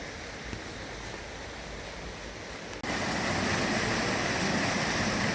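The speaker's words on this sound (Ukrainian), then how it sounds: "оце і є водоспад Гавир" Rushing water of the Havyr waterfall in the Carpathian mountains near Svaliava, Ukraine, roars steadily, then abruptly grows louder and fuller halfway through, a constant broadband wash.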